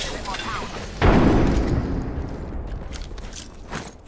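Frag grenade explosion in the video game Apex Legends: a sudden loud boom with a low rumbling tail that fades over several seconds, under ongoing game noise.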